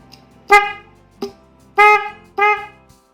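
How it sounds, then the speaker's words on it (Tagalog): A relay-wired car horn honks four times in short, loud blasts, the second one briefly tapped, with quiet pauses in between. "maganda maganda po ang tunog at tama po ang pagka-connect natin ng relay sa sa horn"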